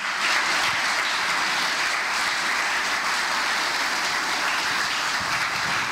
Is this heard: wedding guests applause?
yes